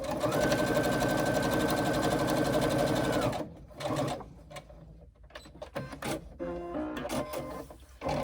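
A sewing machine stitching side panels onto a pleated bag, a fast steady motor hum and needle clatter running for about three seconds, then stopping, followed by handling noises and short bursts of fabric movement.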